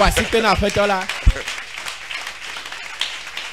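A church congregation at a Sunday service applauding, a spread of clapping that rises just after a short spoken phrase and continues at moderate volume to the end.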